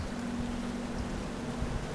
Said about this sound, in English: You can hear the fan blowing in the background